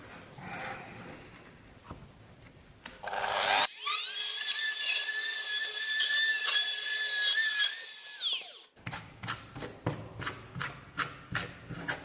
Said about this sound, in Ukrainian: я повифрезеровую в кутки